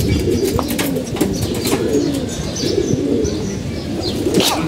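Kept pigeons coo steadily up close while wings flap in short bursts, with a few chirps mixed in during hot weather.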